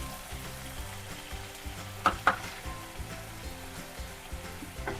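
Egg fried rice with soy sauce and chilli sauce is stirred in a pan over low flame, giving a soft continuous sizzle with a couple of sharp spatula clacks against the pan and light scraping, with no talk.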